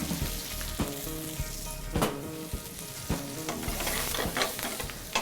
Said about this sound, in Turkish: Şu anda sebzelerimiz yeterince sotelendi renk değiştirdi.